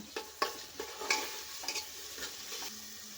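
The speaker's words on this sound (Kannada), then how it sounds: "ಸ್ವಲ್ಪ ಹಸಿ ವಾಸನೆ ಹೋಗಲಿ, ಅಲ್ಲಿವರೆಗೂ ನಾವು ಫ್ರೈ ಮಾಡ್ಕೊಳ್ಳೋಣ" Garlic-ginger paste and green chilli paste frying in a pan: a close, quiet sizzle with repeated light scrapes and taps as a spoon stirs the mixture.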